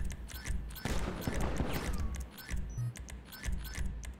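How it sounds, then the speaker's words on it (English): Rapid burst of machine gun fire in Grand Theft Auto V, a dense clattering volley near the start followed by scattered sharp shots and metallic clinks, with no talk. "Machine gun."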